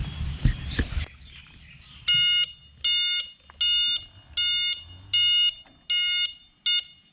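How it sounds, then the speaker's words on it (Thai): A loud clunk and rustle, then an electric tricycle's reverse-gear warning beep pulses at an even pace, about seven short tones. "จะมีเสียงเพื่อความปลอดภัยนะคะ ว่าเรากำลังถอยหลังอยู่เนาะ"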